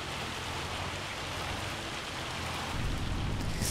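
Steady, dense rain from Farming Simulator 25 hisses without a break, growing a little louder near the end, with no talk over it.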